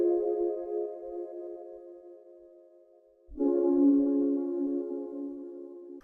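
A melodic sample pitched down 700 cents with no effects, two deep sustained tonal phrases, the second louder after a dip, with faint low thumps beneath, heard alone for an R&B beat.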